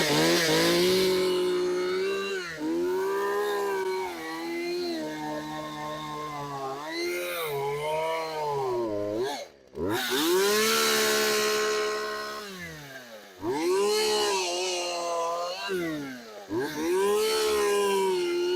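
An old Craftsman chainsaw, left outside for years, runs its small two-stroke engine near and loud for most of the clip, with a steady tone that dips and recovers several times, including a brief cutout near the middle.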